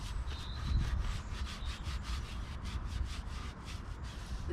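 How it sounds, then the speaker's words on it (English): A brush scrubs dirt off a mountain bike in quick, steady back-and-forth strokes, a close, continuous rasping swish with a regular pulse and no talking. "the next step is to clean it, scrub all the dirt off. I've got this brush here"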